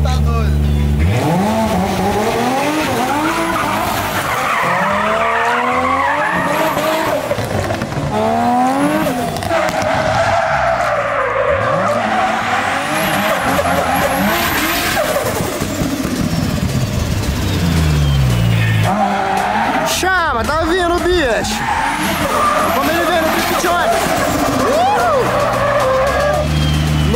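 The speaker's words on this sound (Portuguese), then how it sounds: "chegou o carro de drift" A Nissan 350Z drift car slides with long, loud tire squeals that rise and fall over a roaring engine, sustained almost continuously from close range.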